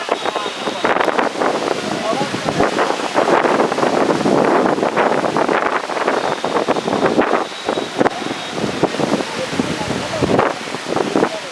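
Wind blows outdoors, buffeting the microphone with constant rumbling gusts and rustle, loud and close, while people talk over it.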